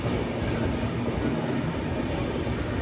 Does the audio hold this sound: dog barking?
no